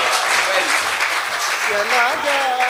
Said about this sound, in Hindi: जोरदार तालियां एक बार अफजल के लिए